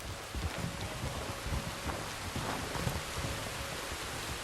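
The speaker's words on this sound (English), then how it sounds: "There's rain on the wind." Steady, dense rainfall hisses throughout in a video game, with a soft low rumble of distant thunder rolling underneath; no voices, just the continuous wash of the storm.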